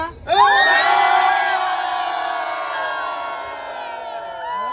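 At an Agri-Koli engagement ceremony, a crowd gives one long, loud group shout and cheer that holds for several seconds and slowly fades, with whoops rising near the end.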